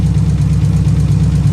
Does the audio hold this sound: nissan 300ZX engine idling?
yes